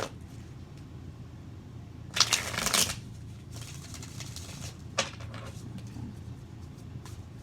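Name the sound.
shuffling tarot cards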